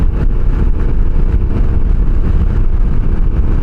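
A loud, steady motorcycle engine drone while riding, close to the microphone, with wind buffeting mixed into the rumble.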